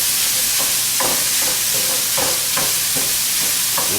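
Sausage sizzles steadily in a hot frying pan, a close, crackling hiss with periodic spatters and the scrape of stirring or turning, with no talk.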